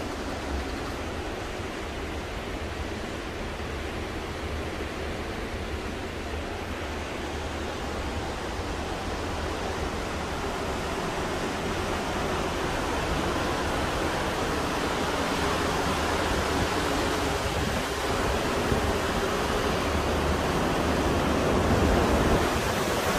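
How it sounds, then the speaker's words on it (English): Ocean waves rush continuously below the back of a cruise ship sailing the Norwegian fjords, a broad, steady roar of surf and wind that swells slightly toward the end. "I'm going to stop talking for a second just so you can fully appreciate the sound of the ocean."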